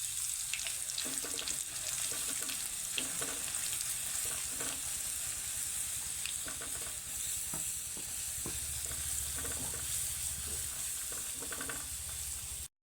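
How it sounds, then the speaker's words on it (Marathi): Ground green chili paste fries in hot oil with curry leaves in a pan, giving a steady close sizzle with occasional stirring scrapes throughout. "जी मिरची आपण बा दळली होती मिक्सरला तर ती टाकून ती व्यवस्थित तळून घ्यायची आहे"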